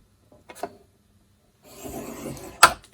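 Cardstock being scored with a scoring tool at several marked lines for a layered birthday box, heard as a soft rub and a short drag, then a longer rasping stroke ending in a sharp close click.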